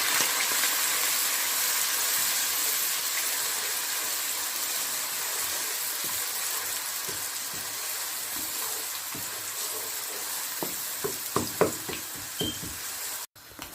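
Grated onion fries in a pan with a steady soft sizzle, and a few sharp clinks and stirring knocks near the end.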